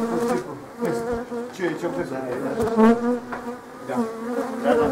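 Honeybees buzz around an opened beehive during spring work in the apiary, a steady close insect drone running throughout while people talk over it.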